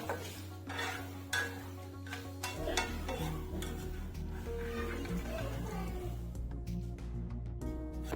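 Flattened rice (chira) fries in hot oil in a pan while a utensil stirs and scrapes against the metal, with clinks and knocks of cookware over a steady low hum; no one speaks.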